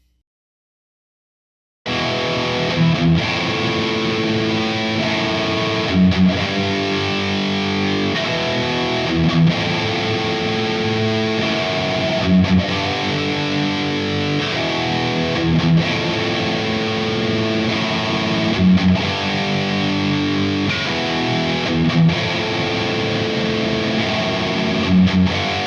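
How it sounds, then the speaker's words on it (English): A heavily distorted electric guitar plays an intro, loud sustained chords with rhythmic accented hits repeating steadily after a brief silence, no voices. "Let's kick on our distortion and go over the next part of the intro."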